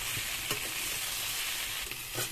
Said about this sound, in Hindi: ये देखिए कुछ इस तरह से फ्राई किया जा रहा है दोस्तों